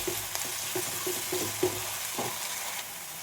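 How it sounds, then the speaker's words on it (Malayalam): Onion with a spoonful of ginger garlic paste frying in a pan for a jackfruit seed curry, a steady close sizzle broken by a few soft stirring scrapes and taps, with no talking. "ഞാൻ അടുത്തതിലേക്ക് 1 ടീസ്പൂൺ ഇഞ്ചി വെളുത്തുള്ളി പേസ്റ്റാണ് ഇട്ട് കൊടുക്കുന്നത്."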